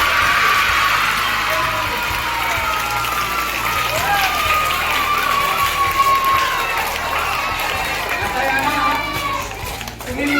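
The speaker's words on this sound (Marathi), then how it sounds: "जोरदार टाळ्या वाजवून यांचं." A school assembly claps loudly and continuously for newly elected student leaders, with children's voices and crowd chatter mixed into the applause.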